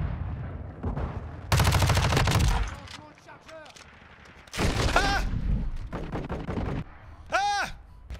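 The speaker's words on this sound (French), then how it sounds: "Le bruit des armes est incroyable." Bursts of MP5 submachine gunfire from Modern Warfare 2, loud rapid volleys that come and go across the clip, with pauses, a voice and game sounds in between.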